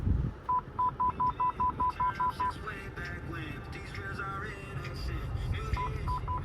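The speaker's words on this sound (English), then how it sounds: "It's just the cue sound effect telling you that you're controlling the volume up and down" Short electronic cue beeps from the volume control of a 2002 Mitsubishi Lancer car radio, a rapid train of about ten evenly spaced tones, a pause, then a few more, close and clear over faint background noise.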